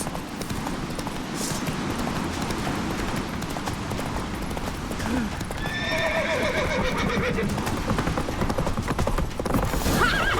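Horse galloping in The Witcher 3, rapid clip-clop hoofbeats throughout with a loud whinny partway through, close and continuous under game ambience.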